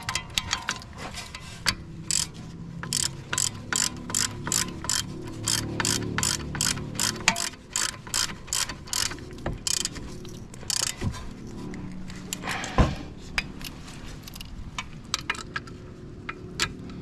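Ratchet wrench tightening bolts on a Mercedes CLS front air shock, a fast series of sharp metallic clicks in bursts, close and fairly loud, with short pauses and a few louder knocks.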